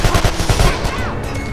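Rapid gunfire in the Call of Juarez The Cartel video game, a quick burst of several close loud shots followed by a fading ringing tail.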